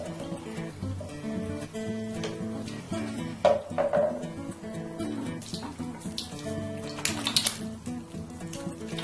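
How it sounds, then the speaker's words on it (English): Tap water running into a sink during handwashing, a steady close splash with brief louder patters as hands move under the stream, no speech over it. "And now I'm going to keep washing my hands."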